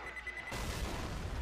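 A grenade goes off in Left 4 Dead 2, a sudden loud burst that turns into a sustained rumbling roar, preceded by a brief quieter moment with a faint tone.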